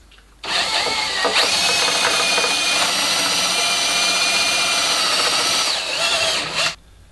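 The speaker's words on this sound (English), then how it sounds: "So now I have the two sets of holes drilled." A power drill bores holes through a wooden jig in one sustained, loud, close whine lasting several seconds before spinning down, with no talking.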